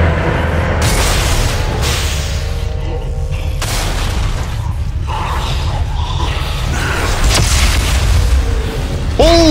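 Loud, booming weapon fire from the sci-fi horror game Dead Space 3, a heavy blast rumbling continuously with mechanical creaks and bursts layered over a dense, roaring in-game soundscape.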